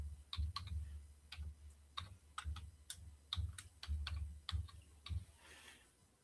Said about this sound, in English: I'm not typing the best right now